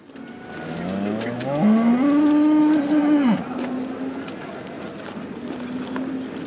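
A dairy cow at a cattle show gives one long, drawn-out moo that rises and holds before dropping off, close and loud, followed by quieter show-ring bustle and a faint second low call.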